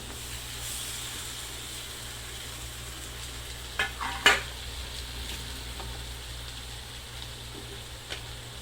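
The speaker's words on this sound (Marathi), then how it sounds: "बारीक चिरलेली कोथिंबीर, तर ह्याला पण परतून घेते।" Chopped potatoes and finely chopped coriander sautéing in a pan give a faint, steady sizzle, broken midway by a few louder scraping stirs and a later soft clink.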